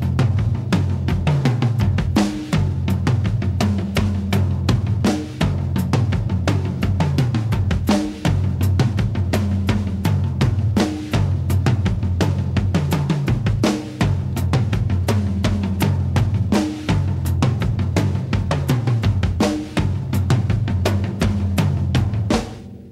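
A tom-driven drum groove with bass drum added under the steady floor tom ride and accents, played loud and close in a continuous, even rhythm without speech.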